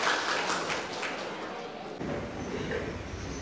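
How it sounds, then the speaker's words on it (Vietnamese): A round of applause from a Buddhist gathering's audience, a steady, fairly loud wash of clapping with a slight shift in tone partway through, sustained to the end. "Một lần nữa xin mời toàn thể quý vị tặng thêm cho một tràng pháo tay"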